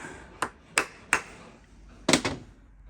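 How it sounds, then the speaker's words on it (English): Hammer taps seating a bearing cup in the rear suspension of a Hillman Imp during restoration: three sharp, evenly spaced metallic knocks, a pause, then a quick double strike, close and loud in a quiet workshop. "what's the reason for the taps with the hammer"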